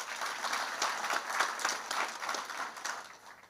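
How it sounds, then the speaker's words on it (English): An audience at a volunteers' meeting in Limpopo applauds, with dense clapping that swells and ebbs in a continuous wash, fairly near and filling the room without any speech. "let us give ourselves a round of applause"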